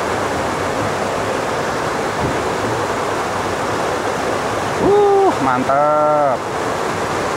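Clear water of the Umbulan river flowing steadily, a broad continuous rushing wash close by. Someone speaks briefly over it near the end.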